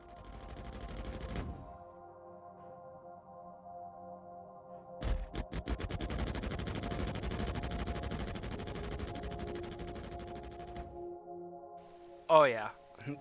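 Turret weapons on an Aegis Redeemer starship fire in a space video game, with a short burst, then a sustained rapid stream of loud mechanical gunfire lasting several seconds over a droning hum, then a sharp electronic blip.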